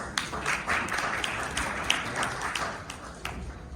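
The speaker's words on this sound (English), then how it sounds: "Please give him a round of applause." A crowd at NFT.NYC claps in a brief round of applause, fairly distant and moderately loud, fading near the end.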